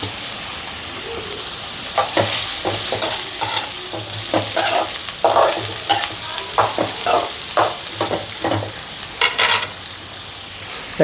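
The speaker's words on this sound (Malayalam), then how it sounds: "നമുക്ക് കപ്പളങ്ങ അരിഞ്ഞു വെച്ചിരിക്കുന്ന എണ്ണയിലോട്ടിട്ടൊന്ന് വറുത്ത് കോരിയെടുക്കാം." Chopped raw papaya for pickle fries in hot oil with a steady, bright sizzle, punctuated by regular scraping and clinking of stirring throughout, close by and with no one speaking.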